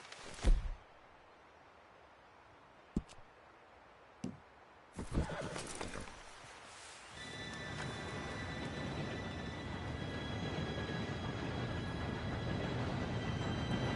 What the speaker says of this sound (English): Train should be here any minute now